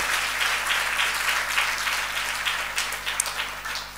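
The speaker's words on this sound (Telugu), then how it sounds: "సంతోషంగా ఉండి ఒకసారి చప్పట్లు కొడదాం" A church congregation at a fasting prayer service claps together in a steady round of applause, moderately loud and filling the room, with a low hum beneath.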